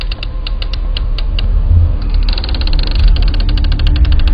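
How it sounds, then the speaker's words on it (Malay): A cupboard door creaks as it is opened and shut repeatedly at night, the wooden hinge squeaks forming a rapid, rhythmic run of sharp creaks, loud and close over a low rumble. "kedengaran bunyi pintu tu dibuka dan ditutup"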